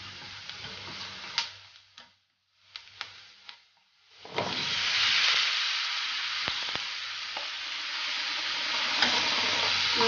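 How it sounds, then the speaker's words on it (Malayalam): Potatoes tumble into a pan with chilli powder for a potato stir fry: clattering knocks and a brief lull, then a loud, steady sizzle with spatula clicks, close and without speech. "ഇനി ഇതിലേക്ക് ഉരുളക്കിഴങ്ങ് ഇട്ട് കൊടുക്കാം."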